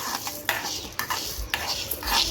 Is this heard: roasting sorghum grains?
yes